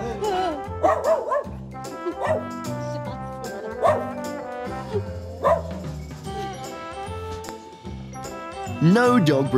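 A husky barks and howls in repeated, drawn-out vocal bursts, loud and close, with whining, yodel-like tones between barks.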